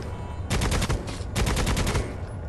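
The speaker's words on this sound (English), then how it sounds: "I'll shoot your legs then." Gunfire in Necromunda: Hired Gun, a Warhammer 40K first-person shooter on PS5, heard as two loud, rapid bursts of automatic fire close by, the second slightly longer, with no talking.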